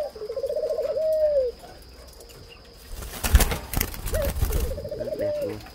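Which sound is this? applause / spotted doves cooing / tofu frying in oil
spotted doves cooing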